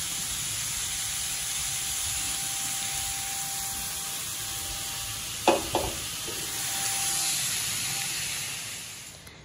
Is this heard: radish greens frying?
yes